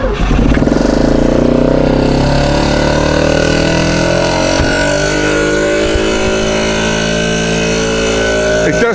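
A Citroen M35 twin-rotor rotary engine with double ignition coils cranks, catches and revs, a loud continuous buzzing drone with rising and falling pitch that holds steady close to the microphone throughout.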